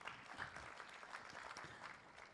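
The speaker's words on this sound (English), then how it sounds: "So let us clap for Slovak Aid." An audience at a blue economy innovation and investment summit breaks into steady applause, a dense, continuous patter of many hands clapping at moderate volume throughout.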